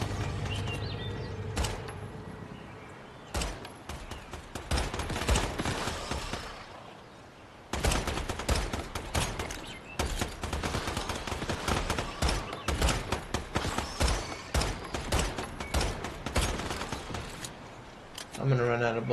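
Rapid gunfire in the survival shooter Once Human, dense repeated cracks in long bursts with brief pauses, loud and close, with a voice talking over the shooting.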